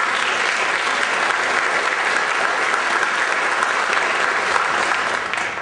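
A concert audience at a school symphonic band and wind ensemble spring concert gives a round of applause for a student, steady dense clapping that holds loud and even throughout with no talking.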